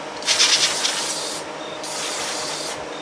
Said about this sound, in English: Spray this down with some brake parts cleaner